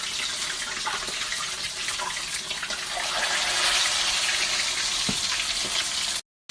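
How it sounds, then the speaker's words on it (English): A steady, loud sizzle of chicken wings flash frying in a hot pan with crackling pops throughout, cutting off abruptly near the end. "My wings are out of the oven, so they're going straight into the frying pan."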